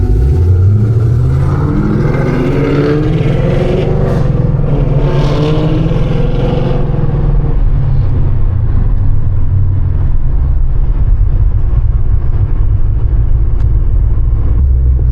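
Catless Mustang 5.0 and Camaro ZL1 V8 engines rev loudly and roar steadily on a road, a dense, constant engine drone throughout with no talk.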